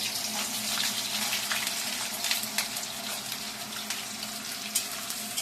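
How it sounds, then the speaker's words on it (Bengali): Whole spices and onions dropped into hot oil for a Bengali mutton curry, giving a steady, dense hiss of frying that stays even throughout, close and fairly loud with no voices. "আমি এখন ফোড়নটা তেলে দিয়ে দিচ্ছি। পেঁয়াজটা তেলে দিয়ে দিচ্ছি।"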